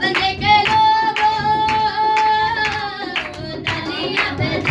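A congregation at a Hindi Christian worship service claps in steady rhythm, sharp repeated hand claps running under loud singing and music.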